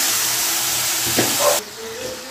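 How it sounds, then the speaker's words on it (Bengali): Spice paste sautéing in hot oil after a splash of water, for a raw banana kofta curry: a loud steady sizzle and hiss that flares briefly, then drops to a softer simmering fry. "তো এখানে হালকা জল দিয়ে আবার কষবো আমি"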